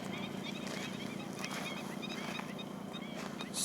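A large flock of greater flamingos at Vankalai Bird Sanctuary in Mannar, a dense, continuous goose-like honking and gabbling, heard from a moderate distance at low level.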